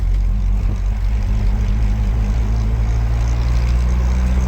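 A mini truck engine pulls hard under load with a loud, steady, low rumbling drone that holds evenly throughout, close by, with no talking.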